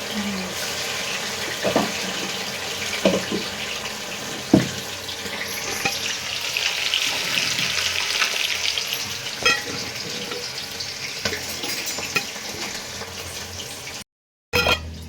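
Kebabs fry in hot oil with a continuous sizzling hiss, marked by a few sharp pops and clinks of stirring, close and moderately loud with no voices.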